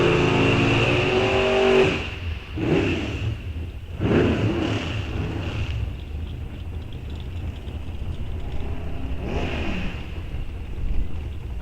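Bracket drag racing cars at Rock Falls Raceway on the Pro ET starting line: loud engine roar and revving, with bursts of acceleration from the launch and a steady motor drone in between.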